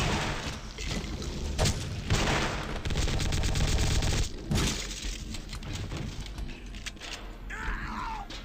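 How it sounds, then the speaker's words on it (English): In the horror video game The Suffering: Ties That Bind, a shotgun fires again and again amid a dense, chaotic barrage of sharp cracks and booms, loud and close, with game noise filling the gaps. "It's a good thing we have this shotgun."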